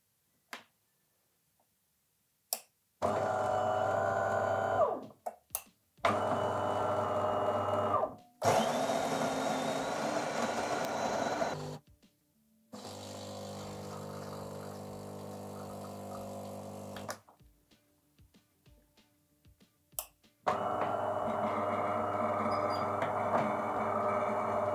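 A DeLonghi Magnifica S bean-to-cup coffee machine brews a 15 ml shot: several loud grinding and pump bursts of a few seconds each, separated by quiet gaps and soft clicks, ending in a final sustained buzzing run.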